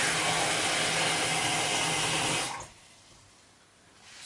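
Water pours steadily in a loud, broadband rush for about two and a half seconds, then cuts off to near quiet before a faint second trickle begins at the end.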